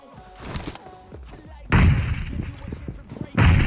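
Grenade blasts in the video game PUBG Mobile, two loud booming explosions a second or so apart, each with a heavy low rumble, following quieter gunfire and game noise.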